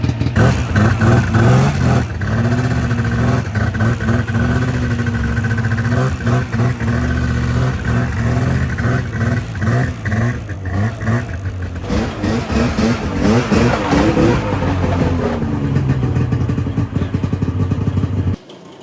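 A carbureted Polaris Indy 550 snowmobile engine runs up close and loud, a continuous buzzing two-stroke drone whose pitch rises and falls with throttle changes over the whole stretch.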